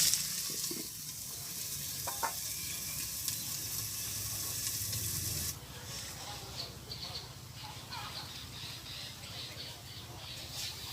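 Pointed gourd (potol) frying in oil in a covered pan in a village kitchen, a steady close hiss and crackle throughout that becomes slightly brighter and thinner midway, with a voice talking over it.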